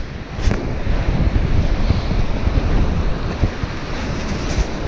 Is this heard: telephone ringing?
no